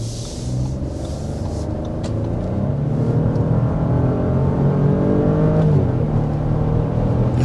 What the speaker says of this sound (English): it takes no time really at all to get up to 60 miles an hour